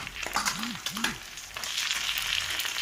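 Cabbage, chili, tomato and carrot for egg noodles sizzle in a hot pan while being stirred, with a couple of scraping strokes early on and a steady frying hiss after, fairly quiet and close.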